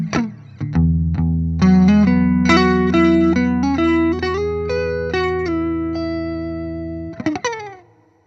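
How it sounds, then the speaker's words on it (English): Electric guitar, a Fender Strat Custom Shop, played through a Boss Centaur CT-3 overdrive pedal into a Fender Reverb Deluxe amp and a Celestion Vintage 30 speaker, gives a loud, sustained overdriven chord phrase with ringing notes that fade out at the end. "Let's take a listen for the first time for me and maybe for you to the Boss Centaur CT-3."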